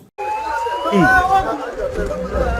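Tunisian football fans gathered before a national team match, a lively crowd chattering and calling out nearby with a whistle-like tone rising over the babble.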